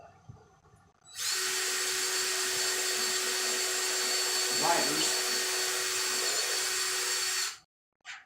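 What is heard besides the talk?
power drill drilling holes in wood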